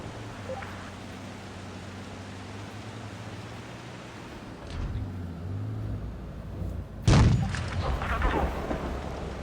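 Tank cannon fire in World of Tanks Blitz, a Ho-Ri Type III against an Object 268, with a rumbling engine bed and a sudden heavy boom near the end followed by rolling noise.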